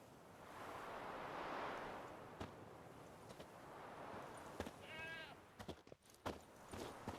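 A goat tied to a stake bleats in The Witcher 3, a short wavering cry near the middle of the clip over steady wind and surf-like ambience, followed by a few soft clicks.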